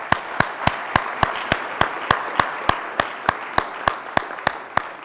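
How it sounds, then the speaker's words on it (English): Rhythmic, evenly spaced claps, about three per second, from a conference audience thanking speakers and panelists at a panel on sustainable mega sporting events, crisp and steady without other sounds. "a big round of applause for our speakers"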